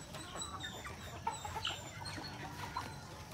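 Chickens and roosters cluck on a farm, several short calls scattered over a soft background, moderately near and fairly quiet.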